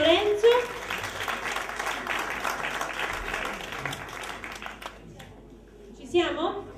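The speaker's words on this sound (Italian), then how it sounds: "Facciamogli un applauso" A crowd applauds a young student performer at a carnival ballad show, with a busy patter of clapping that thins out toward the end, voices rising over it near the close.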